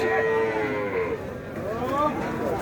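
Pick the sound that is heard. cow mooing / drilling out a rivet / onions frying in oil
cow mooing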